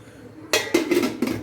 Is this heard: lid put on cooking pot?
yes